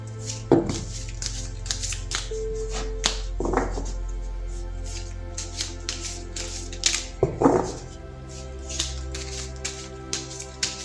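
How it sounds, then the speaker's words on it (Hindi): Tarot cards shuffled by hand at close range: a few brief riffling bursts spaced several seconds apart, with light taps and soft card clicks in between, no talking. "तो पहले ज़रा कार्ड्स को शफल कर लेते हैं।"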